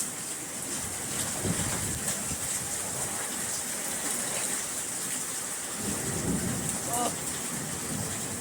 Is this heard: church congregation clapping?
no